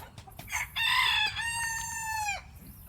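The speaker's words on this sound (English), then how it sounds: "So the chickens are enjoying their free run today after the rain." A rooster crows once, loud and clear, nearby among free-ranging chickens on a farm after heavy rain, with a few clucks just before the crow.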